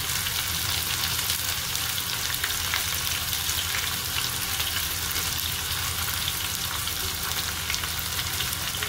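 Onions frying in hot oil with curry leaves for a fenugreek curry, giving a steady, loud, dense sizzle that holds evenly throughout with no talking.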